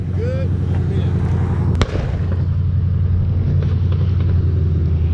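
Gunfire at a street takeover, a single sharp loud crack over a heavy constant car-engine rumble, with people's voices around it.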